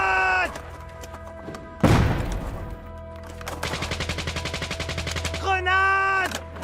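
A grenade blast and bursts of gunfire in a World War II battle at the siege of Leningrad: a single loud, close thud-like explosion, then a long rattling volley of rapid shots, with shouted voices near the start and end.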